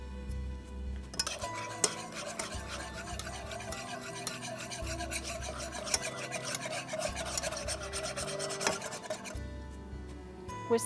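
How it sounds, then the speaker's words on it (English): A whisk scrapes and rattles around a bowl, mixing a beer dressing with cider vinegar for coleslaw, a continuous close rasping stir broken by a few sharp clinks against the bowl. "Whisk that around so it's good and fixed up"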